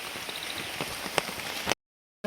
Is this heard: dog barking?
no